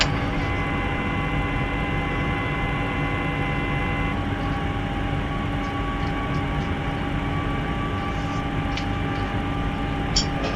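A simulated Boeing 737-900ER on approach in Microsoft Flight Simulator X, its jet engines giving a steady cabin-like hum with faint tonal whines, occasional small clicks, and no voices.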